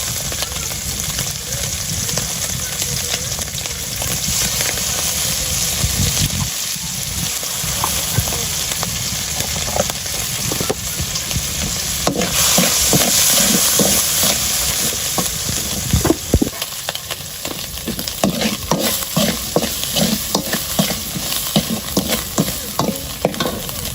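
Small icha shrimp fry with garlic in a pan for a village-style spinach dish, a loud continuous sizzle and hiss broken by repeated stirring scrapes and clatters of the utensil against the pan.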